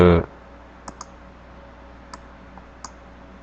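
A computer mouse clicked while working in a chart, giving a few sharp, faint clicks scattered across a quiet room, one close pair near the start that sounds like a double click, after a brief burst of other sound at the very beginning.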